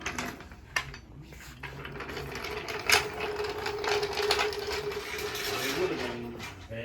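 A car jack being worked under a Honda S600, a steady mechanical ratcheting and whirring with scattered clicks and a few sharper knocks, close and continuous, with a voice speaking over it.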